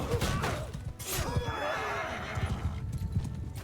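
Horses of horse archers in a medieval battle game neigh loudly over the clip-clop of hooves, with one long whinny followed by rapid galloping hoofbeats and a clatter of battle noise.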